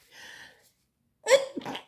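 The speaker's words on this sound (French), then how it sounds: "Je sais pas ce que j'ai à éternuer comme ça" A person sneezes, a short breathy intake followed after a pause by a sharp, close nasal burst and a quick trailing exhale.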